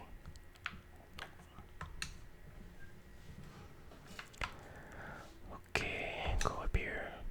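Soft clicks of a game controller's right stick and buttons during a Halloween horror video game, irregular taps and clacks close to the mic under quiet whispering.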